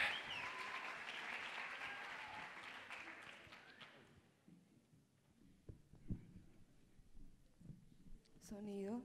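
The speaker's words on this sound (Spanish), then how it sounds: "¡Un aplauso para ella!" An audience applauds singer Victoria Mancera, winner of Indevoz 2015, at an awards ceremony. Loud crowd clapping fills the first four seconds and then fades out, leaving scattered thumps, faint voices and a short tonal sound at the end.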